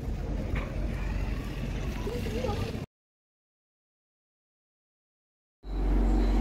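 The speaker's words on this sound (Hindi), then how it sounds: "बहुत प्यारी ठंडी ठंडी हवा चल रही है।" Cool wind gusting across an open microphone with broadband rumble, loud and steady, cut by a silent gap of about three seconds before the blustery roar returns.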